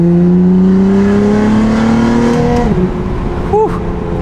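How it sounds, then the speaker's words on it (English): BMW F80 M3 with an equal-length mid-pipe exhaust revving hard past 2,000 RPM, a loud rising engine roar that climbs in pitch, then drops and rises again, heard up close. "Forgot how good the equal length mid-pipe sounds after 2K RPM, of course."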